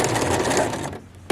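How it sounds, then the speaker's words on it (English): A sewing machine running steadily through a reverse stitch while finishing a seam on a pants waistband, a dense mechanical whir that cuts off near the end, followed by a brief clunk. "we'll end with a reverse stitch"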